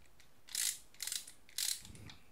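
Close ratchet socket wrench clicking during tightening, three short bursts of crisp rapid clicks separated by pauses, fairly quiet with no talk.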